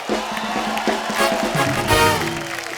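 Studio audience on a Hindi celebrity talk show set applauds and cheers a guest's entrance, a loud, dense wash of clapping and crowd voices running steadily throughout.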